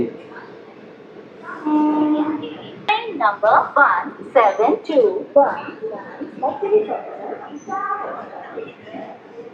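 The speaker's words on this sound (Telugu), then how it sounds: "భీమవరం టౌన్ నుంచి కూడా మన ట్రైన్ స్టార్ట్ అయిపోయింది." Express train 17219, Machilipatnam to Visakhapatnam, pulls out of Bhimavaram Town station with a steady rolling rumble and a brief tonal horn-like blare, running continuously beneath someone talking throughout.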